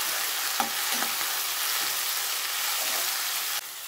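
Tomatoes and curry leaves for a mutton rib bone gravy sauté in a pan, giving a steady, close sizzle with soft scraping and stirring taps throughout.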